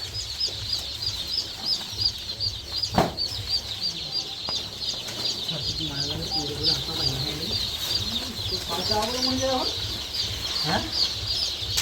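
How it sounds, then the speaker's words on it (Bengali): About a thousand Sonali chicks on a poultry farm peep constantly in a dense, high chorus, while people talk intermittently over them. "1000 পিস সোনালি মুরগির বাচ্চা আমার ফার্মে চলে এসছে"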